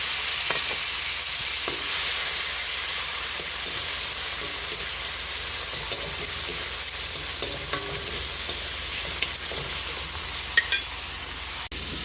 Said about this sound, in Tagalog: Lagay na rin natin yung sibuyas at kamatis.